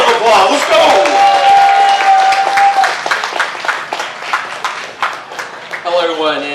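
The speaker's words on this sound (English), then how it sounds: "Let's give them a round of applause." A crowd at the Cleveland Asian Festival 2025 applauds, dense clapping that runs steadily for several seconds while a voice speaks over it.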